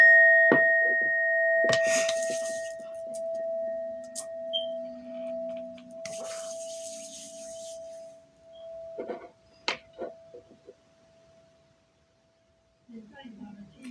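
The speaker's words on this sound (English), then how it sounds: "I'm gonna hit the bell, okay?" A meditation bell is struck near the start, its clear pure tone ringing on and slowly fading for about nine seconds, followed by scattered handling knocks and clinks, with someone speaking briefly.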